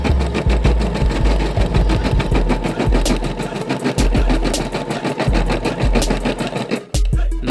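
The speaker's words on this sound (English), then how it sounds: "this is the first step, which is a placement stitch to let me know exactly where my design is getting ready to go" A Brother SE625 embroidery machine runs a placement stitch for a patch, a steady loud rapid mechanical chatter of needle strokes with a low thumping pulse, continuous and close, pausing briefly near the end.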